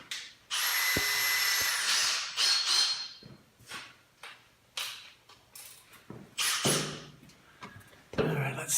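A power drill whirs loudly for about a second and a half, then comes a series of short drilling bursts with pauses and clunks between them.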